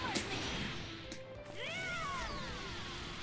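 A cat meows with rising and falling cries over a constant background hum of a Dragon Ball FighterZ tournament stream, faint and slightly distant, with no clear talk.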